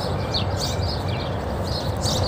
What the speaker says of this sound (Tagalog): mga huni ng mga ibon naririnig